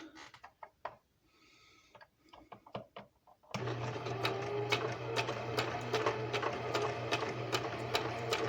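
A sewing machine starts up after a few quiet clicks and runs steadily with a rapid, even mechanical rattle and hum, close and loud for several seconds.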